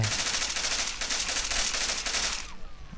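Gunfire in Postal 2, a loud, dense rattle of rapid shots running continuously for a couple of seconds before cutting off into quieter background noise.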